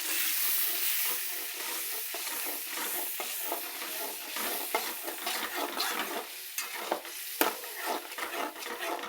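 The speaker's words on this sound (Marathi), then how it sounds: "बघू शकता कसा तेलात फ्राय करायचा." Masala frying in hot oil, a steady bright sizzle with a spoon stirring and scraping the pan in an irregular rhythm, close up and continuous.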